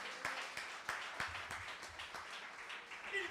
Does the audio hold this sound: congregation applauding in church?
yes